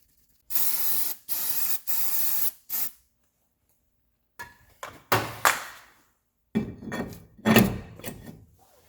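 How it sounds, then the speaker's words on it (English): White lithium grease sprayed from an aerosol can onto a Subaru Outback front wheel hub: four close hissing bursts with short gaps, then quieter scattered clanks and handling noises of parts. "make sure you apply some white lithium grease or some anti-seize to the hub"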